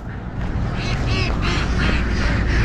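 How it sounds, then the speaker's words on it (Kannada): A large flock of ducks beside a highway in Vietnam quacks loudly and continuously at close range, a dense overlapping chorus under steady background noise. "ನೀವಿಲ್ಲಿ ನೋಡುತ್ತಿರುವುದು ಬಾತುಕೋಳಿಗಳ ಹಿಂಡು"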